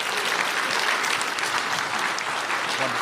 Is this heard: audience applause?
yes